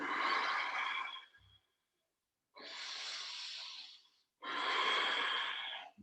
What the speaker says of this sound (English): Full diaphragm breath.